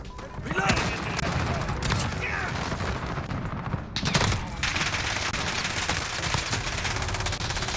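Rapid automatic gunfire from the Modern Warfare shooter game, dense bursts of shots rattling almost continuously and loudly with a brief pause midway, with a player's voice talking over it.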